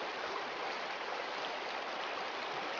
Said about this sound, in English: This is a lot of runoff.